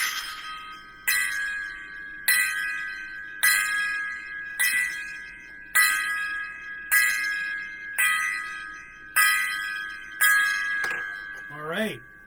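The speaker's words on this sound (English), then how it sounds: "I want to give a 10 gong salute to the people that we lost this year." A gong is struck ten times in a slow, even salute, each bright metallic hit ringing out and decaying before the next, clear and loud, with a final wavering shimmer as the last stroke fades.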